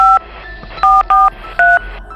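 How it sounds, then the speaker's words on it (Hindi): A telephone number is dialed as a series of loud, clean touch-tone keypad beeps, four distinct short tones with brief pauses between them, alone without talk. "और पहले नंबर मिलाया"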